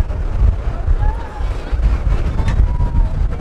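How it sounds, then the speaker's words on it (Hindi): Strong gusty wind blowing between mountains near Kohala Bridge, Neelam Point, close to Murree, buffeting the microphone as a loud continuous low roar with surges, under faint background voices. "ये देखें बहुत तेज हवा चल रही है।"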